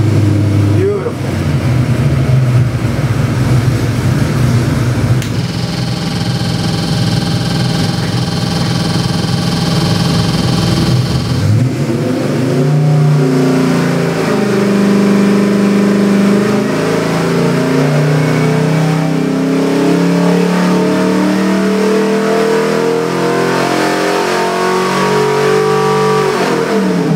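A 427 cubic inch small block Chevy stroker crate engine runs at high idle, a steady loud mechanical drone that shifts in tone partway through, with a voice speaking over it.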